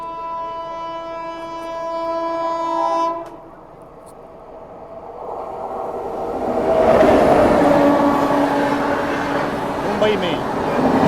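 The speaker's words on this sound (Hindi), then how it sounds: "ये हावड़ा मुंबई मेल होगी।" The Howrah Mumbai Mail sounds a long, loud, steady horn, then roars past close by with a swelling rush of rolling wheels and rattling carriages that holds to the end.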